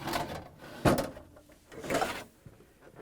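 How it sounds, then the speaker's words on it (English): A plastic ice bin slides out of a Whirlpool freezer with a scraping rumble, then a louder knock and a second sliding scrape follow. "Pull out the ice bin."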